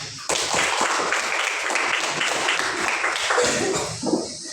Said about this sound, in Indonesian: Oke, terima kasih kelompok 3. Tepuk tangan